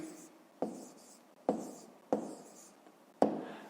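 Numbers being written by hand for a fifth-grade maths exercise, a quiet close pen or chalk scratching in four short bursts, each starting with a sharp tap.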